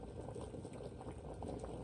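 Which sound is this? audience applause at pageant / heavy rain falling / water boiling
water boiling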